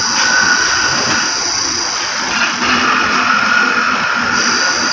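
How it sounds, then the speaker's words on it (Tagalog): Electronic power steering motor of a Hyundai i10 runs continuously with a steady, loud whirring hum and high-pitched whine, close up and without talk. "Ibig sabihin na malakas yung motor o yung EPS motor."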